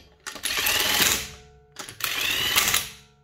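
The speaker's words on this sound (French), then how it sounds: "clé à choc, on a 3 positions. Pour serrer nos roues, on va se mettre en position 1." An impact wrench on position 1 tightening the wheel nuts of a Toyota C-HR with 60,000 km, two loud close bursts of rapid hammering, each about a second long, separated by a brief pause.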